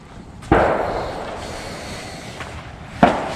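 Two sharp, distant gunshots ring out a few seconds apart near horse bridle trails in a Long Island county park, each echoing briefly before fading into quiet outdoor background.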